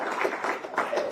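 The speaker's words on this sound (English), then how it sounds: "Congressman Crane, also, give him a round of applause." An audience claps for Congressman Crane, a former Navy SEAL, at a national security strategy conference held by a Washington think tank. The applause is a brief, steady burst of many hands that fills the room.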